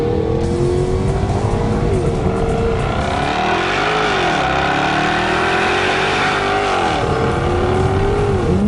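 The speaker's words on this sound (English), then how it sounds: "any car like this with a big 5-litre supercharged V8 that you have to love, it's the noise. The noise this thing makes is just dirty, guttural and mechanical." 2014 Jaguar XKR-S with a supercharged 5-litre V8 revving loudly and close, its pitch climbing and dipping in repeated sweeps with no voices over it.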